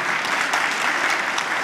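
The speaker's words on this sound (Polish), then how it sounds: "Wielkie brawa dla pani profesor." Brief burst of steady audience applause at a Polish high school pre-graduation ball after a polonaise performance, a dense, even clapping throughout.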